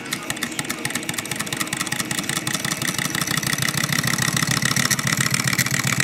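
A small PM Research model Stirling solar engine runs steadily with a rapid, even mechanical ticking and whirring, close and fairly quiet, with no talk over it.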